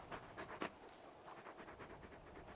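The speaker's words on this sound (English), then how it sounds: "You're just a big puppy, aren't you? A very big puppy." A large dog companion in the video game Final Fantasy XVI pants in quick, rhythmic breaths, close and moderately loud, with one sharper huff partway through and no voices.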